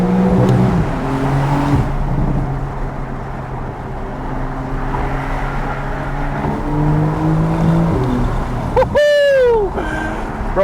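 A Porsche 992 Carrera accelerates with the windows down, its engine note climbing in rising sweeps, with wind and road roar close around and a sharp rev near the end.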